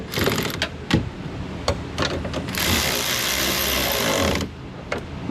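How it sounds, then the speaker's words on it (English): A hand tool tightening small clamps on a car's power window regulator, giving rapid ratcheting clicks and scraping, then a sustained buzzing whir lasting about two seconds before more scattered clicks. "Now I'm going to take the tools and tighten up these little clamps."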